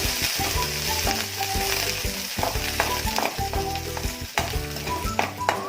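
Mustard seeds, urad dal, onion and curry leaves sizzle and sauté in a pan for a South Indian coconut chutney tempering, with steady loud frying noise and frequent clinks of stirring throughout, no voices.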